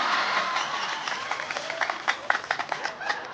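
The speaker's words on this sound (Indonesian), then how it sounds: "Tepuk tangan. Tepuk tangan! Woi! Tepuk tangan!" Scattered clapping from a studio comedy-show audience in Indonesia swells into brisk applause, irregular and fairly close, with faint voices underneath.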